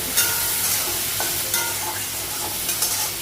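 Onion fries in a pan at home: a loud, close sizzle with brisk stirring and a few sharp spatula taps against the metal, no voices over it.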